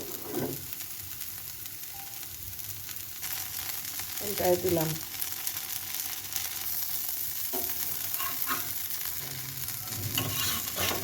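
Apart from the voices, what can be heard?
frying pitha (rice cakes) in a pan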